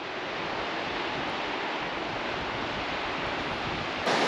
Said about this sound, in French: On a rejoint la rivière